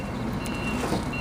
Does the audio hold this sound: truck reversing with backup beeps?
yes